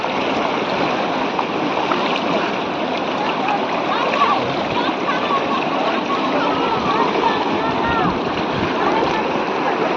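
River water at Rishikesh rushes and splashes continuously and loudly, with turbulent surf-like churning throughout and no clear break.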